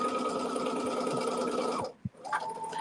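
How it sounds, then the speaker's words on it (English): A sewing machine chain sewing pieces of fabric one after another, a loud steady close whirring run that stops abruptly, followed by a soft thump and a brief restart. "And I'll start chain sewing them."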